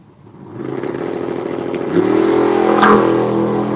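A Hemi race car launches down the left lane of the track, its engine note building from a low idle into a loud harmonic roar that surges sharply about halfway through and holds steady.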